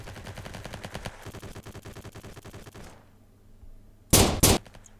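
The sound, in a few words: gunfire in video game Block Strike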